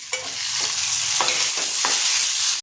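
Tomatoes stirred and sautéed in a pan with onion and green chilli for coriander chutney, a loud, close, continuous sizzle broken by several scraping stirs, with no voices.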